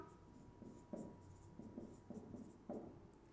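A maths solution step is written out by hand in a run of faint, close scratchy strokes with short pauses between them in an otherwise quiet room.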